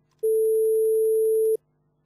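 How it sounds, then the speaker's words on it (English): A pure 440 Hz sine wave tone generated in MaxMSP sounds once, steady and loud for just over a second, then stops cleanly into silence. "we should hear the sine wave if I click here at 440 hertz."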